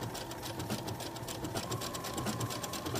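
A steady, fairly quiet whir of a sewing machine running continuously along a pocket seam of joggers, its rapid needle rhythm even throughout with no voices.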